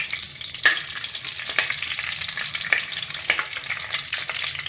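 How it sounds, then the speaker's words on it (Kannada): Whole spices for pulav frying in hot oil, a loud, busy, crackling sizzle close up, with a spoon stirring and clinking against the pan now and then, and no voices. "ಇವಾಗ ಪಲಾವ್ ಸಾಮಾನು ಹಾಕ್ತಾಯಿದ್ದೀನಿ, ಇದನ್ನು ಅಷ್ಟೇ 1 ಸೆಕೆಂಡು ಫ್ರೈ ಮಾಡ್ಕೊಬೇಕು"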